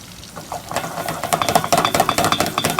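Diced onion stirred into bacon and bacon grease with salt in a pan, a quick run of close scraping, clinking strokes over a soft sizzle that quickens toward the end.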